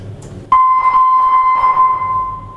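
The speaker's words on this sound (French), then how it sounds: "Ici, on a la centrale d'alarme par haut-parleur." A loud, steady alarm tone switches on abruptly and holds a single pitch, blaring continuously through a loudspeaker alarm system in a Swiss military fortress.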